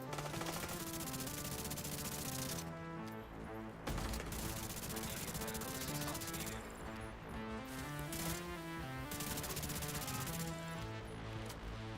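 Dense automatic gunfire in The Division 2 rattles loudly and almost without a break, with brief pauses of a few moments, layered over other game sounds and no talking.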